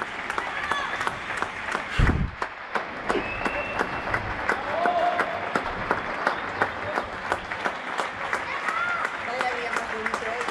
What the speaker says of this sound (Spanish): Sexagésimo cuarta jornada de aplausos sanitario.